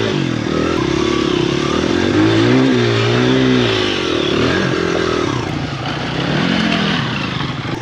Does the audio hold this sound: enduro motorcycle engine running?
yes